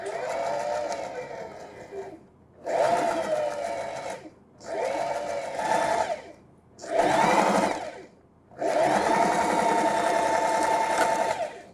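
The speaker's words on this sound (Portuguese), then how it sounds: "Vou iniciar a costura, retrocesso" A sewing machine stitches decorative topstitching on a dish towel with backstitching, running in five bursts separated by short pauses, each a steady close whirring hum, the last burst longest.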